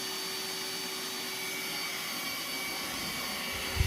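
A Roomba S9 robot vacuum running on a shag rug, a constant close whirring suction roar with a steady tonal hum and no talk.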